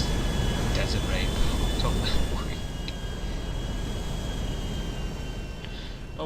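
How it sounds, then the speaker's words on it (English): Airplane engine in GTA 5 droning steadily as the plane descends toward a desert, a loud continuous roar with faint whispery voice traces over it. "This plane's going down towards this desert rain."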